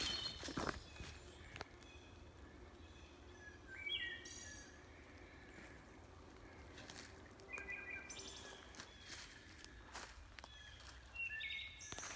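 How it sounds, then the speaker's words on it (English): Outdoor birdsong with clear, flute-like phrases repeating every few seconds against a quiet rustling background, with occasional soft thumps and steps. "That is my favorite bird. That's my wood thrush."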